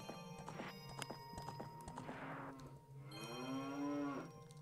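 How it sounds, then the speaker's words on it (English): Cows in The Legend of Zelda: Ocarina of Time give a couple of drawn-out, low moos, the second one longer and rising, with horse-like clip-clop and a whinny nearby in the game's farm setting. "Yay, more cow sounds."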